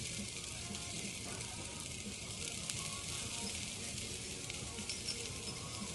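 Garlic and shrimp sizzling in a pan, garlic browning, producing a constant, even hiss of frying that holds steady throughout with no talking.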